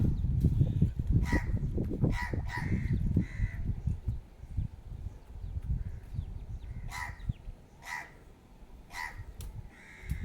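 A peacock's loud, harsh calls ring out in short repeated bursts, some in quick pairs, over a low rumbling background.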